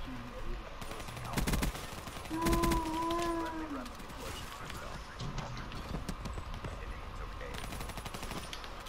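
Rapid automatic gunfire from a teammate in an online shooter game, dense bursts of rattling shots running throughout with a brief honking tone in the middle.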